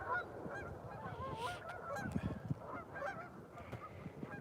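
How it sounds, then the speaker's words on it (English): A flock of geese honks by icy water outdoors, with many overlapping calls that are steady and moderately distant, against low rumbling wind and no clear speech. "The geese are out here."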